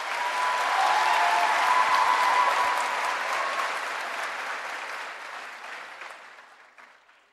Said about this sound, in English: So give yourselves a round of applause because we did a class of 2023.